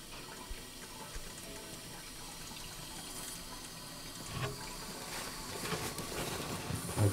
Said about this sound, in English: let's turn on the water,